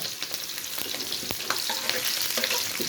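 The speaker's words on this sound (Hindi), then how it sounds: "ये इन तीन चीज़ों का तड़का हमने लगाया।" Steady crackling sizzle of cumin and chillies frying in hot oil, close and continuous, with scattered sharp pops and spatters throughout.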